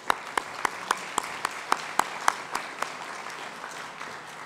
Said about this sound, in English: a round of applause for them will do